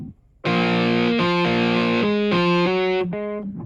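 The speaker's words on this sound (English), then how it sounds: "You're gonna get more push, more distortion." An electric guitar plays a short lead line through overdrive distortion, sustained gritty notes stepping up and down in pitch, loud and close with no talking.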